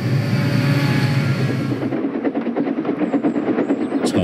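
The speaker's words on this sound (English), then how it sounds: "Thomas is a steam engine. When he puffs along, he sounds very different" A cartoon steam engine puffs along on the rails, a loud, rumbling roar settling into a rhythmic chuffing and clattering pattern, heard alone without talk.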